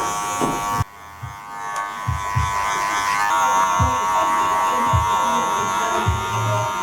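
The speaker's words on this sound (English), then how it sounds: "working clipper over comb now" An electric hair clipper buzzes steadily while cutting a short crop fade over a comb, a close, continuous hum interrupted by a brief dip and faint rhythmic snips of hair.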